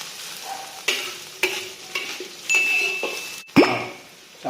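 Sour bamboo shoots stir-fried in a wok for Liuzhou luosifen, with repeated scraping strokes of a spatula against metal, brief clanks and a light sizzle in between, close and alone.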